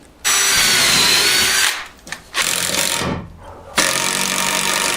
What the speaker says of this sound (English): now we'll go ahead and drill this hole